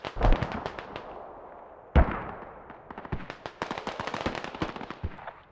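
Mortar rounds boom in a military video game match: two heavy launches followed by a rapid crackle of many sharp distant impacts and gunfire, loud and dense with no talking.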